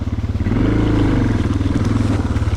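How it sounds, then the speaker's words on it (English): A Suzuki DR650 dual-sport motorcycle with highway gearing lugs along in first gear on a singletrack trail, its low, pulsing engine thumping unevenly as the clutch is worked and it nearly stalls, loud and close throughout. "first gear, using the clutch, and it kind of wants to stall."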